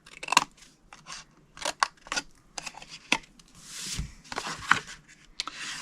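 Scissors snip paper along score lines while a treat box is being made, a series of sharp, close crisp cuts in uneven bursts, with rustling paper handled between them.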